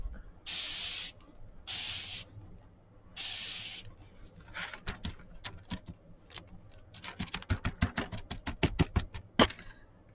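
Three bursts of hissing spray from a nozzle as walnut stain is sprayed onto wood, followed by a flurry of rapid clicks and tapping as the sprayer is pumped and handled.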